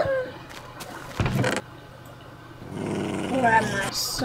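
A dog growls in a Minecraft survival game, a low rumbling growl with a short louder burst midway, then mixed with speech-like sound and game noise toward the end.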